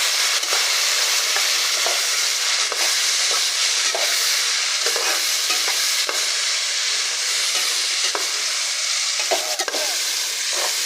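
An onion, tomato and green chilli masala fries in a pan, a loud, continuous close hiss with scattered crackles and occasional stirring scrapes, and no speech.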